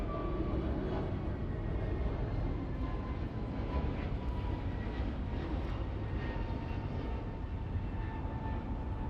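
An airliner at Los Angeles International Airport gives off a steady, loud jet roar that holds constant and unbroken, with no voices over it.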